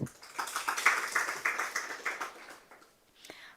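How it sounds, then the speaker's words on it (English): Brief scattered clapping from an audience at a university disability inclusion seminar at MUST, honouring the Dean of Students; moderately loud, thinning out toward the end. "Allow me to re-thank her with a hand of applause."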